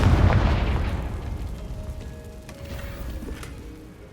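Confringo fire spell from the Hogwarts Legacy video game, a loud booming blast at the start followed by a rumbling tail that fades slowly over several seconds, with faint tonal effects after.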